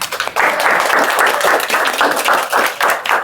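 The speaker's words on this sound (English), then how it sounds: "And y'all can clap it up" A crowd of high school students claps loudly and continuously at a school presentation, with dense, even applause and no voices rising above it.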